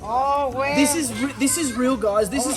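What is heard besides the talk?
No everyday noises stand out.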